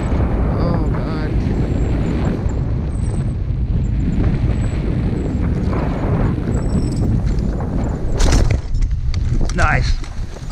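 A glider touching down on a road, a loud continuous rush of wind and airflow roaring steadily throughout, with a brief sharper burst of noise near the end.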